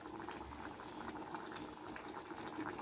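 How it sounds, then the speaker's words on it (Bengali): Mustard and poppy seed silver carp curry simmering in a pan, a steady soft bubbling and gentle sizzle throughout, close and fairly quiet, with no talking. "সর্ষে পোস্তর ঝালটা একদম বেশি ফোটাবো না"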